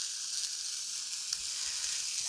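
Steak tips searing in a hot cast iron pan give off a steady, close, bright sizzle that holds evenly throughout with a few small pops and no voices.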